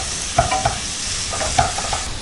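Green chilies sauté in a pan until golden, a brief stretch of constant close sizzling with a few light stirring scrapes.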